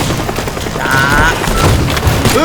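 Dense, loud gunfire and booming explosions from the modded voxel game Teardown, with rapid bursts and blasts overlapping in a chaotic continuous barrage.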